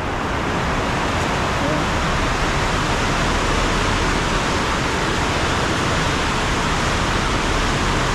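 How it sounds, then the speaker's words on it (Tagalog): Heavy rain from Typhoon Carina pours down near a swollen river as a loud, dense, unbroken roar with no pauses for the full eight seconds. "Daming lakas ng ulan."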